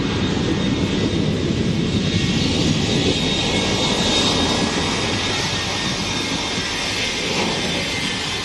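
The Shockwave jet truck, powered by three jet engines, roars continuously at an air show, a loud, steady broadband blast with a high whine, close and alone without talk.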